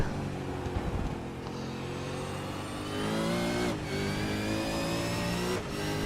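A Supercars race car, a Ford Mustang, roars through an onboard lap of the Long Beach street circuit, its engine revving hard and climbing steadily, with brief drops at gear changes and no talk.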